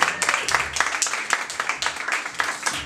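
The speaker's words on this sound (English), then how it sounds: "Give him a round of applause." A theater audience at an Edinburgh Fringe comedy show claps in a dense, steady burst of applause, close and lively throughout with no talking.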